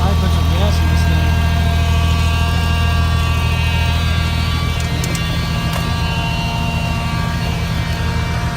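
Car engine idling after a cold start on a cold day, a loud, steady low rumble that holds throughout with faint higher rattles on top.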